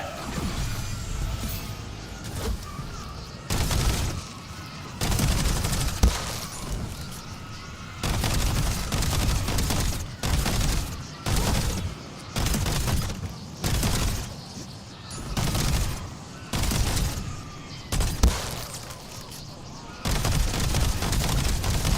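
Repeated bursts of automatic gunfire in a shooter video game, loud and close, each burst lasting a second or two with brief gaps between them.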